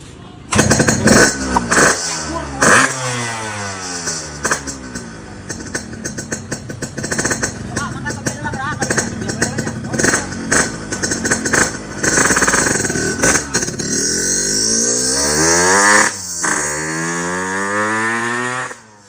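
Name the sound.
motorcycle engine starting and running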